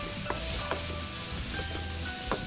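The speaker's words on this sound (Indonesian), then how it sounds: "Ini tangkainya kita oseng-oseng terlebih dahulu sampai layu" Cassava leaf stems stir-fried in a pan with ground garlic, ginger and candlenut, a steady close sizzle with the scrape and clatter of a spatula stirring every so often, with no voices.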